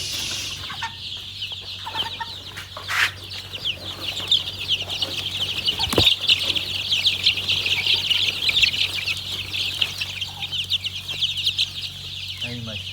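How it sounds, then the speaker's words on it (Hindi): A flock of young chicks on a poultry farm is let out of a pen. A dense, continuous chorus of high peeping and clucking carries on throughout, with a brief clatter near the middle and faint voices underneath. "अब खोलते हैं चिक्स हम।"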